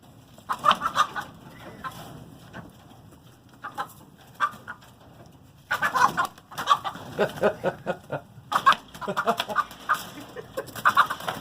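Chickens in a coop treated for red mites cluck in busy bursts, some nearby and loud, others quieter, with brief pauses between flurries.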